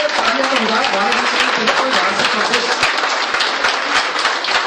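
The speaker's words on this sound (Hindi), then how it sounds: "तो तालियां बजाए, तालियां बजाए।" Audience clapping in welcome at a political gathering in India, a steady, loud burst of many hands applauding together while voices carry faintly underneath.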